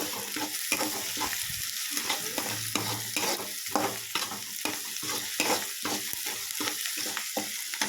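Mango chitranna cooking in a pan with salt added, a steady sizzle of frying under rapid, rhythmic scrapes and knocks of a spoon stirring against the pan, close and continuous with no talking.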